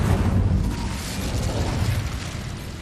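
A fire spell cast in the Hogwarts Legacy video game, with a loud burst of roaring, crackling flame at the start that settles into a sustained rumbling whoosh.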